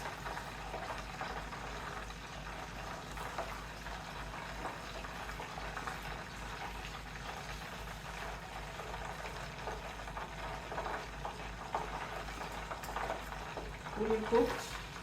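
Chicken deep frying in hot oil for homemade KFC-style fried chicken: a steady, moderately loud bubbling sizzle that runs throughout, with a louder scraping clatter near the end.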